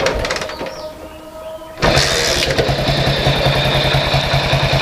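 A Hero Honda motorcycle engine, its tappets freshly adjusted, cranks and catches, then settles into a steady, loud idle with a rapid, even mechanical pulse and no tappet noise.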